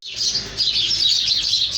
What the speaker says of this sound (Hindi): चिड़ियाँ सारा दिन चहचहाती रहती हैं